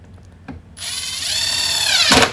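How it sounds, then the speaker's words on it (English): Power screwdriver driving a screw into a foosball table leg board, a KICK Monarch 48-inch table, with no pilot hole; a short click, then a steady whirring drive of about a second and a half rising in pitch, ending in a loud burst. "Insert your H12 screw and secure."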